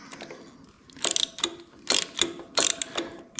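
A ratchet snugs down the top motor mount bolt on a 2001 Harley-Davidson Sportster, clicking in three or four short, close bursts with brief pauses between strokes, with no talking.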